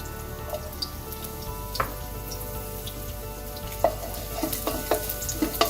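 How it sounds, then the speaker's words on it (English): Garlic sizzles in about a teaspoon of hot oil in a wok, a steady crackling hiss with sharp pops and spits that grow busier toward the end. "On the stove I have a wok that's hot. It has about a teaspoon of oil, to which I add garlic"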